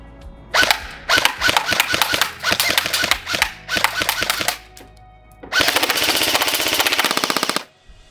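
A KWA LM4 or VM4 electric airsoft gun fires full-auto in several bursts, each a rapid mechanical rattle of shots, close and loud, with brief pauses between strings and a longer final burst.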